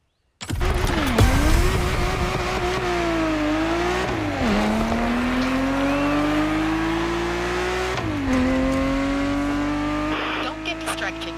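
A Ferrari 365 GTB4 Daytona in the racing game The Crew Motorfest roars loud and close, its engine revving and shifting pitch through gear changes, with some tire noise and a voice speaking over it.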